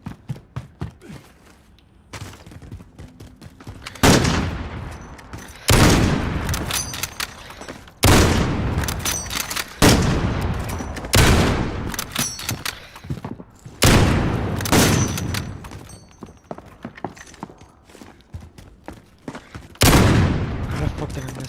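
Loud bursts of automatic gunfire in a Call of Duty Modern Warfare 1v1 match, close and repeated every couple of seconds with short gaps, mixed with footsteps and thuds while players talk over it.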